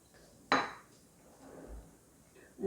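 Utensils clink against a bowl while soy sauce, oligosaccharide syrup, vinegar and sesame seeds are stirred together into a dipping sauce for a vegetable pancake, one sharp clatter followed by quieter scraping and a second clink near the end.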